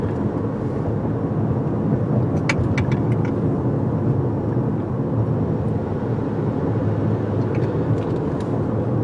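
A car being checked for a misfire with no fault code accelerates normally along a main road. A dense, steady rumble of engine and road noise fills the cabin at a constant level.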